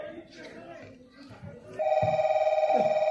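A telephone rings loudly and steadily as an incoming call during a family comedy stage play, its electronic ring sustained after earlier talk and background noise.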